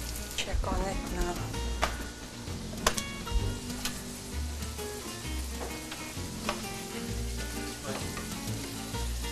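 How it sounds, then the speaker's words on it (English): Dumplings sizzling and crackling steadily as they fry in oil in a pan, with occasional sharper pops and clinks of utensils. "One by one we're frying all of them."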